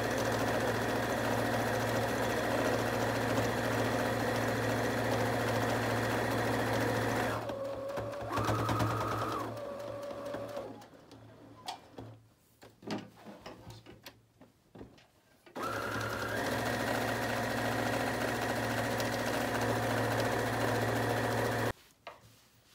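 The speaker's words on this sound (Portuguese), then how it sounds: "agora vamos começar a costurar na beirada com o ponto, com o pé de máquina" A sewing machine stitches along a fabric edge with the presser foot, running loud and steady. It stops and starts in short bursts midway, then runs continuously again before halting near the end.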